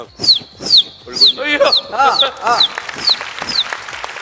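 A voice imitates a baby chick's crying with a run of high, falling peeps, about eight in a steady rhythm, some doubled, close and fairly loud.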